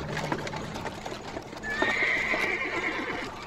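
A horse whinnies and its hooves clip-clop in the video game Amnesia: The Dark Descent, with a steady trotting rhythm under a long, high neigh that rises midway and holds loud and close.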